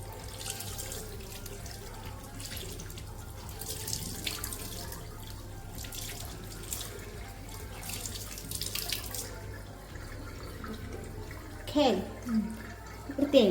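Tap water runs into a sink for washing, a steady splashing stream with intermittent gushes and drips, while people talk quietly in the background.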